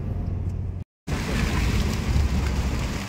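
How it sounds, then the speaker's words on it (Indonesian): Sudden heavy rain heard from inside a moving car on the road near Parepare, a dense steady hiss of drops with a brief cut of silence near the start, then continuing loud and unbroken. "Pare-pare tiba-tiba hujan"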